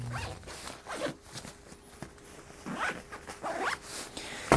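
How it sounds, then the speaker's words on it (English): Zipper closing the compression side of a Peak Design packing cube, heard as several short raspy pulls in quick succession, close and fairly quiet with no talking. "So we're zippering it up."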